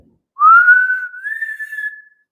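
A person whistles through the mouth, one sustained tone rising slightly then holding steady for about two seconds, clear and close in a quiet room.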